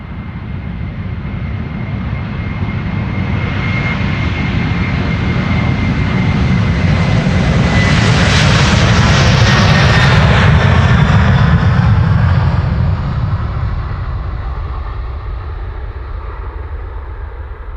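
Airliner departing Amsterdam Schiphol Airport, a close, loud jet roar that swells steadily to a peak mid-way, then slowly recedes into a fading rumble as the aircraft climbs away.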